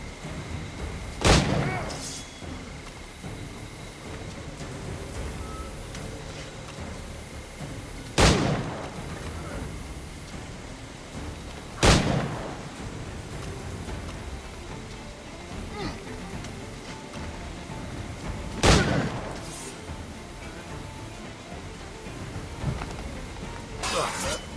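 Cannon fire in the pirate video game Assassin's Creed IV Black Flag: four heavy booming shots, spaced several seconds apart, ring out over a constant rumbling background of sea and wind, with a faint crack or two in between.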